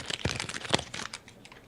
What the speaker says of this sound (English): it's kind of like crinkling paper